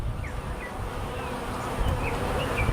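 Honey bees buzz in a close, continuous swarm hum during a hive inspection, with individual bees whining past in brief rising and falling tones over the low drone.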